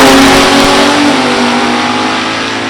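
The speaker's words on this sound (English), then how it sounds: "That car doesn't even sound right, does it? That V10." A V10 drag racing car accelerates hard down the strip at an NHRA Division 3 event at Beech Bend, with a loud, close, sustained engine roar that eases slightly as it pulls away.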